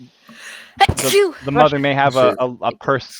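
During a Dungeons & Dragons tabletop session, one sharp, close sneeze bursts out near the start, and a person keeps talking straight afterward.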